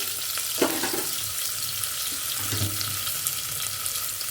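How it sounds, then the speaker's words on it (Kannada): Dry red chillies fry in hot tempering oil for an avarekalu (field bean) sambar, giving a steady close hiss with a few soft clicks and pops throughout. "ಇವಾಗ ನಾನು ಒಣಮೆಣಸಿನ್ಕಾಯಿನ ಹಾಕ್ಕೊಳ್ತಾ ಇದ್ದೀನಿ"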